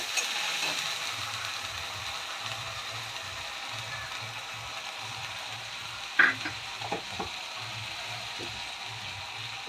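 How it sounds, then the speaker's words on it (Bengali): Onion paste fries in a pan with a faint, steady sizzling hiss and a few light clinks of a utensil partway through, with no voices. "পেঁয়াজটা আমরা লাল করে ভেজে নেবো"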